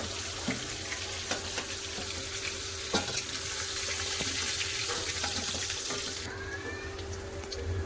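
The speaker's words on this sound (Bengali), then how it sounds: "সব মাছ আমি এভাবে লাল করে ভেজে নেবো" Fish pieces being fried until reddish in hot oil for a fish curry, giving a continuous, close, hissing sizzle that stays level throughout with faint ticks and no talking.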